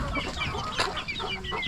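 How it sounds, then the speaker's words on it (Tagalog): Several roosters clucking on a farm, a busy overlapping chorus of short clucks and squawks, close and fairly loud, with one sharper call in the middle. "marami pong mga roosters"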